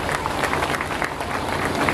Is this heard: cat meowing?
no